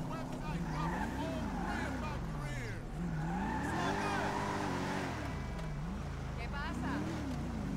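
Engine of a Rolls Royce Dawn driving in GTA 5, a continuous loud drone that rises and falls in pitch with repeated gear-like shifts, under a busy mix of other game sounds.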